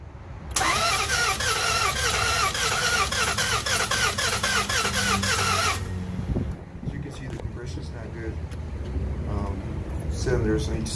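A 2007 Chrysler Aspen engine cranking over steadily on the starter during a compression test, loud and rhythmic for about five seconds without starting, then stopping as a person talks nearby.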